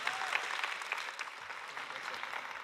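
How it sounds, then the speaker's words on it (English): An audience at a WorldPride Amsterdam human rights conference applauds a speaker, a continuous wash of many hands clapping that holds steady throughout, with faint voices mixed underneath. "Give him a warm round of applause."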